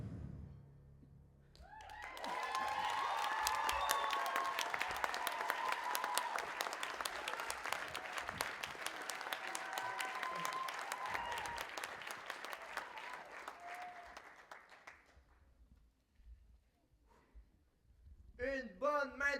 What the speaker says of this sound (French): Une bonne main d'applaudissements à tous nos participants et participantes de ce soir.